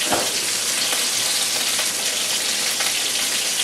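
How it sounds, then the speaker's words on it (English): A loud, steady sizzle of chicken frying in a hot pan, a constant crackling hiss up close with faint scraping from stirring. "You want it to sizzle like this when you put the chicken in the pan"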